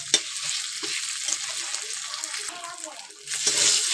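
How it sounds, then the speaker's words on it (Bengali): Spice paste (masala) frying and being stirred in a pan for a tengra fish curry with cauliflower, a steady loud sizzle with scraping stirs throughout that swells again near the end. "তো এরকমভাবে খুব ভালো করে মশলাটাকে আমরা কষিয়ে নেব।"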